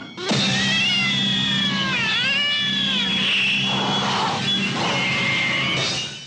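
A cat meows and caterwauls in a long, loud, wavering yowl that bends up and down in pitch, followed by rougher snarling cries, close and alone.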